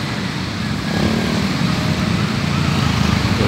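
Dense road traffic on flooded EDSA rumbles as a steady, loud wash of engine noise and splashing water, with no distinct individual vehicles standing out.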